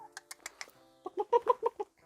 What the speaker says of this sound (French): que je vous présente un petit peu la basse-cour et les poules, bien sûr